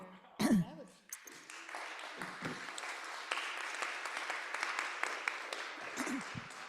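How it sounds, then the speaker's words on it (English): Audience applause after a presentation at a creativity and organization talk, a steady wash of clapping that rises after a brief voice and cough at the start and continues evenly, with faint talk underneath. "Everybody's clapping"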